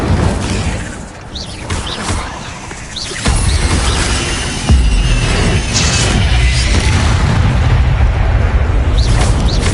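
Spell-casting effects from the Hogwarts video game: continuous loud rumbling booms, bursts and crackling whooshes, with sharper impacts around the middle, no talking.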